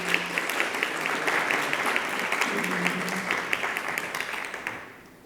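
An audience at an academic engineering talk applauds a professor, many hands clapping with some individual claps standing out, holding steady and then fading away at the close.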